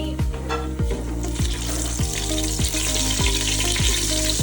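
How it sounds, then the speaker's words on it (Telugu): Whole spices, including shahjeera, sizzle and crackle in hot oil in a kadai for biryani, a dense steady frying hiss close by with repeated short clinks from stirring. "ఆయిల్ బాగా హీట్ అయిన తర్వాత ఈ మసాలాలన్నీ కూడా అందులో యాడ్ చేసుకోవాలన్నమాట"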